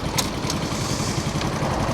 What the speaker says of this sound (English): But that is a solid engine.